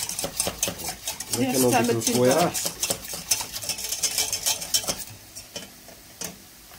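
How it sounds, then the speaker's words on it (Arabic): A spoon stirs béchamel sauce in a pot, scraping and clinking steadily against the metal sides, with a brief tonal whine early on and faint sizzling underneath. "ما نوقفش من التحريك باش ما يكونوش لي غرومو"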